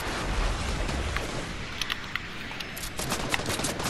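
Fast automatic gunfire in the video game Fortnite, dense rattling bursts throughout with sharper individual shots near the end, no talking.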